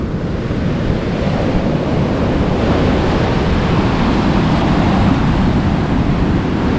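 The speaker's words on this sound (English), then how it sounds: "Yeah, some waves. Not exactly Surf City, but" Ocean surf at Sand Beach in Acadia National Park on a winter afternoon, a steady, loud wash of choppy waves mixed with wind noise buffeting the microphone, continuous with no voices.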